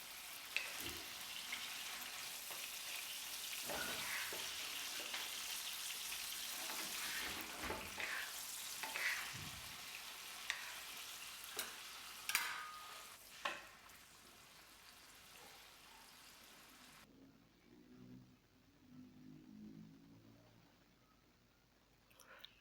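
Diced chicken breast seasoned with salt and pepper cooks over low heat in a pan, a soft steady sizzle with occasional scraping stirs, fading out near the end to a quieter, sparser crackle.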